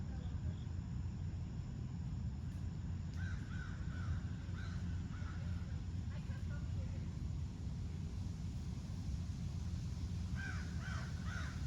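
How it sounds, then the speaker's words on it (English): A crow caws outdoors at a painting spot, several short harsh calls in small bursts at a distance over low rumbling background noise. "Sounds like a crow."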